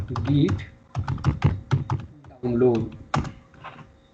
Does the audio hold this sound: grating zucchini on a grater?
no